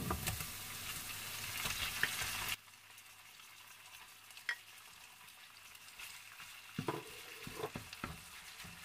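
Chicken breast for chopsuey sizzling and frying in a pan, a loud hiss that suddenly drops to quieter crackling, followed by a few stirring scrapes.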